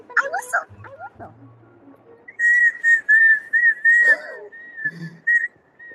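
A person whistles a steady, clear tune in short sustained notes, after brief dog-like yips and whimpers. The whistling is close and fairly loud.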